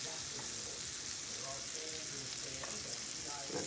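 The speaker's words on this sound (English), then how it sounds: "So go ahead and let that sizzle. Adding more butter to my pan." Continuous hissing sizzle of pumpkin cheesecake pancake batter frying in a buttered pan, steady and close, with faint background sounds and no talking.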